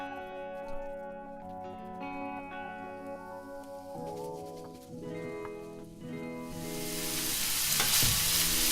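Minced pork cooks in a pan for Thai basil pork with green beans. Music plays throughout, and a loud, steady sizzle swells in over the last couple of seconds.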